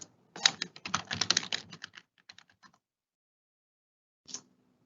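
Quick keystrokes rattle on a computer keyboard in a dense close burst, then a few scattered taps trail off. After a quiet gap, one last short clatter of keys sounds.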